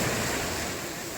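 Sea waves washing onto the shore at Tazones, Asturias: a steady, broad rushing surf with a little wind noise, continuous and fairly loud throughout.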